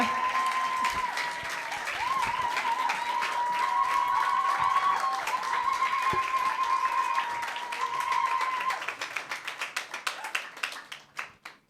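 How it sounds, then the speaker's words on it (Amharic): A congregation at a church service applauds, sustained clapping that thins out into scattered individual claps at the end; a faint tone hums underneath. "ጭብጨባ።"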